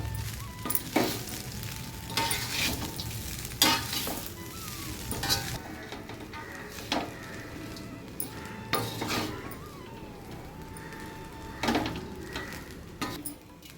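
Cooked Ponni rice being gently folded together with fried okra, with repeated scraping and clinking of a spoon against the pot over a faint sizzle, steady and close.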